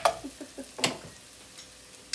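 A few short stirring scrapes move through a pan of red tomato and garlic pasta sauce, with quiet soft clicks in between and the sauce gently sizzling at a low level.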